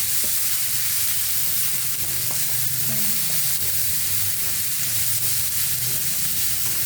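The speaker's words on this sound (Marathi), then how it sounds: "कांदा टाकल्यानंतर कांदा भाजी द्यायचा चांगला" Chopped onion frying in a moderate amount of oil in a pan, a steady dense sizzle and crackle running throughout with faint occasional stirring noises, no talking.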